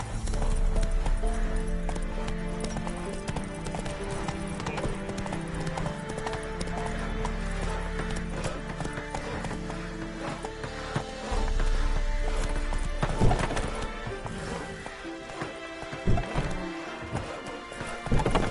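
A horse gallops in a video game, its hoofbeats drumming continuously over dense game sound and music, with a brief louder burst partway through.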